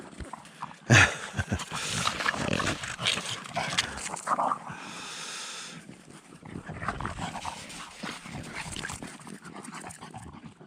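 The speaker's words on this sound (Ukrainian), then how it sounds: "собаки носяться" Dogs scurry and romp nearby on a road, paws scuffling and panting amid rustling movement, with occasional whimpers over a busy outdoor background.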